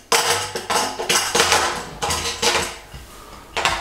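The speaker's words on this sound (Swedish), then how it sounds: "Så sätter man på locket igen" A metal lid fitted back onto a home-built beer keg in a garage, a run of loud close clanks and metallic knocks in quick uneven succession, alone without speech.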